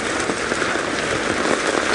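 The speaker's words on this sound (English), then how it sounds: "you said you haven't seen it raining this bad" Heavy rain drums steadily on the roof of a safari vehicle during a sunset game drive, a dense, loud, continuous patter filling the space with no voices.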